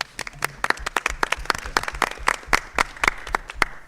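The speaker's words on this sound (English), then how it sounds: "Let's give them a round of applause." At a school board meeting, a small group gives a brief round of applause, with individual claps clearly separated in an uneven, sparse rhythm over about four seconds.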